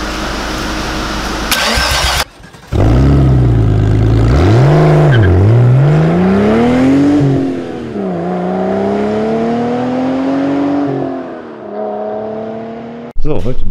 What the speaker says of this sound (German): Er muss einmal nur starten.